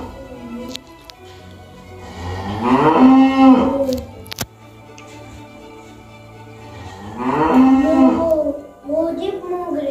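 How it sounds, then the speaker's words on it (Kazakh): A cow moos twice, long and loud, the calls close and clear in a quiet setting, separated by a few seconds of near silence with a brief tap between them. "Маңғаздана асықпай от басып ортаға алдымен сиыр шығады."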